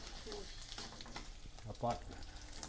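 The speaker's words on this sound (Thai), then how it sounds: "แล้วก็เอาน้ำมันกับพริกแกงผัดให้สุกนะครับ" Red curry paste sizzles and fries in hot oil in a wok for dry chu chee with sheatfish, a steady crackling hiss with stirring scrapes and a brief louder flare, while someone talks faintly in the background.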